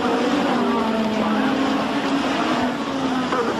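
A 1986 Formula One Grand Prix car races along the track at Brands Hatch during qualifying for the British Grand Prix, its engine a loud, sustained whine heard over wind noise with no clear break.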